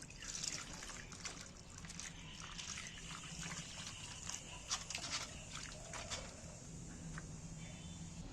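Spice leaves being washed by hand under running water in a kitchen, a steady trickle and splash with rustling and dripping throughout, close by and without talk.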